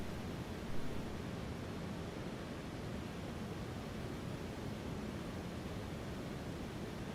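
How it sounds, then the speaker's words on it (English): Steady, broad, loud engine noise from a Cessna Citation 750X business jet in a flight simulator: an unbroken hiss-like roar that runs through the whole clip with no talk over it. "thought the white noise of the engines was actually making it quite hard to hear me over"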